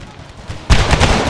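Massed musket volleys from infantry in an American Civil War battle video game erupt after a quieter battlefield murmur, a loud rolling crackle of overlapping shots and booms.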